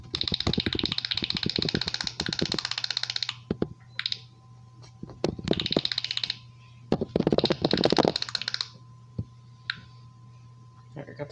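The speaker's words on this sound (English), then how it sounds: "You shall listen to the auto-clicking ASMR, which is actually really annoying." Rapid auto-clicking in the game Cookie Clicker comes in bursts of fast, sharp, typing-like clicks, close and loud, separated by short pauses over a steady low hum.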